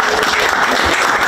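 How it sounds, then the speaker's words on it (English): Audience applause at a talk show honoring a guest: a dense, continuous wash of clapping from a crowd, brief and steady. "let's give a round of applause to Jeff Lozama"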